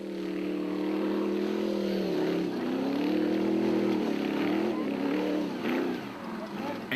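Off-road race vehicle engines labour hard under heavy wheelspin at a South African desert-style rally, producing a loud, continuous droning roar with rising and falling pitch, partly under commentary.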